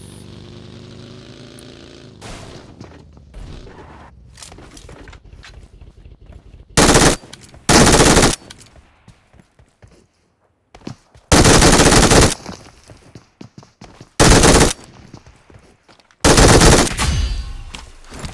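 PUBG Mobile gunfire comes in several loud, sharp automatic bursts, each lasting about a second, separated by quieter in-game ambience and footsteps.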